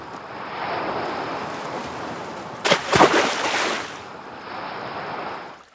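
Ocean waves and a receding tide along a rocky shore with shallow pools, a steady washing surf hiss with one louder breaking surge in the middle before settling back.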